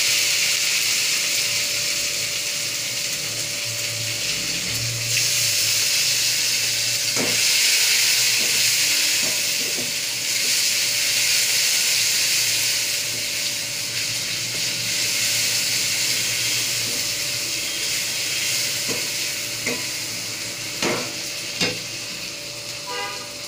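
Chopped tomatoes fry in hot mustard oil with black cumin, a loud, continuous hiss and sizzle that swells and eases, with occasional stirring knocks and clinks toward the end.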